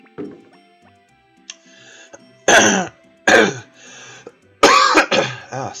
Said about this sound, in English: Oh, sorry about all the coughing.